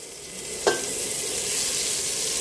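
Garlic frying in a very hot pot, a steady bright sizzle throughout with a brief clink or stir near the start, close and continuous with no talk.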